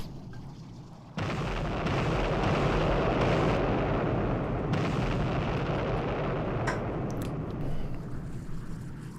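Missile strike in the submarine game Sub Command: a sudden loud, deep booming blast that rolls on as a long, dense rumble for several seconds, with faint crackles near the end.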